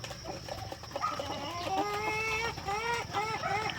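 Heritage breed chickens cluck and cackle close by, a rising, warbling run of calls that layers over a faint background hum.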